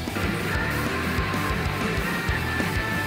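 Dense, continuous full-band music with steady rhythmic low-end pulses and sustained tones runs loud throughout, a recorded song, with no talking over it.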